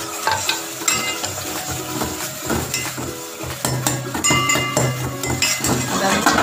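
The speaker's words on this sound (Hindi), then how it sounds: "अब हम इसको थोड़ा और भून लें।" Garam masala spices with mace, nutmeg flower and cumin being stirred and fried into a biryani mixture of mutton and tomatoes, a busy scraping, clattering sizzle with spoon knocks against the pot, steady and close.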